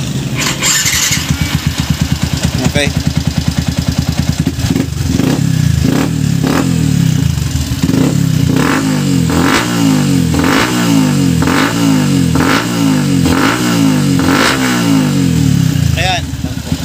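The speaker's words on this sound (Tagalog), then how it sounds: "papandarin ko siya ulit, ano? Tingnan natin kung kumusta yung takbo ng makina." A motorcycle engine being tested after ECU tuning cranks, catches and starts, then revs repeatedly in rising bursts, loud and close, with a brief spoken word near the start.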